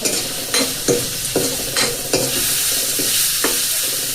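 Drumstick curry with chili powder, turmeric and salt stirred in a pan over an outdoor wood-fired stove, loud close scraping stir strokes landing in a rough rhythm over a constant frying sizzle.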